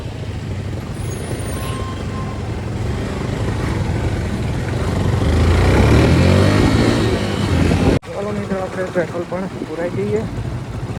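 A motorcycle on the highway makes a steady engine and wind roar that swells toward the middle, then cuts off abruptly and is followed by a voice talking.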